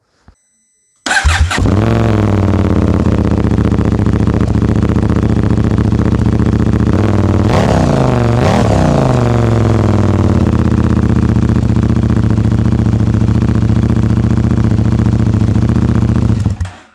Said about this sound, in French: Pour ce qui est du son de l'échappement, je vais mettre le micro vers les pots